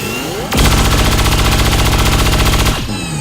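A beam cannon fires in the XCOM strategy game, one loud, sustained burst of rapid pulsing blasts lasting about two seconds before cutting off.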